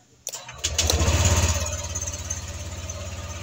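A Honda Click scooter engine cranks and catches after a brief quiet moment, then settles into a steady, close idle with a rhythmic low throb.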